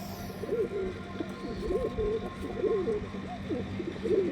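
Large pigeons coo repeatedly close by, soft rolling calls following one another in a steady rhythm over faint background noise.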